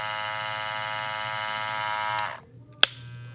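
An Andis Cordless Master hair clipper runs with a loud, steady electric buzz, then switches off about two-thirds through, followed by a single sharp click.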